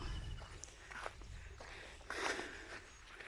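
Footsteps crossing freshly excavated farm land, several soft uneven crunching steps at close range over quiet outdoor background.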